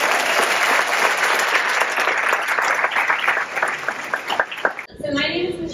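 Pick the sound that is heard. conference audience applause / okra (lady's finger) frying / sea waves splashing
conference audience applause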